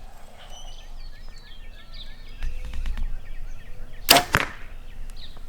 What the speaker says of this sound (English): Shooting the best bow out there, a Hoyt VTM.